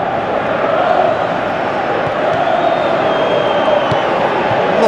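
A stadium crowd in the eFootball 2023 football game, Liverpool versus Real Madrid in the Champions League, gives a steady, loud roar of applause and cheering that fills the whole stretch without pause.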